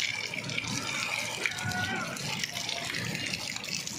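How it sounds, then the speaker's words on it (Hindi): Heavy rain pours with strong wind while drain spouts run, making a steady, dense rush of falling and streaming water that stays loud throughout. "ये देखिए जी, बारिश आप भी इंजॉय करें"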